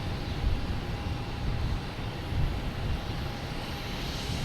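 An airplane at Boston Logan Airport in the late afternoon gives a low, rumbling engine drone. It holds at a moderate, slightly swelling level throughout, with no talk.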